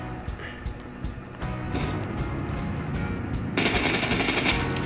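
Gunfire in the video game Farlight 84 rattles in rapid automatic bursts, growing denser and harsher toward the end, with no voices.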